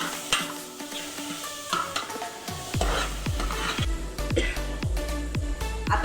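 Misal masala paste sizzles and fries in oil in a pan while a spoon stirs it in repeated scraping strokes, the frying hiss loud and steady close by.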